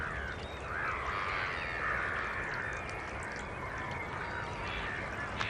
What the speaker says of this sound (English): Once again, the gulls have returned